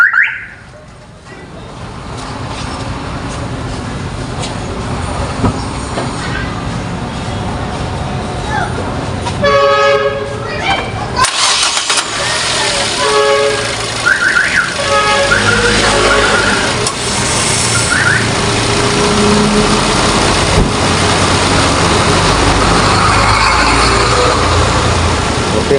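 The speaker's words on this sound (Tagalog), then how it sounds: "Ngayon, subukan natin i-start ang engine para makita natin dito." A car engine is started and left running while its air conditioning is tested, a steady mechanical drone that holds throughout with a brief louder burst near the middle, and faint voices come in partway through.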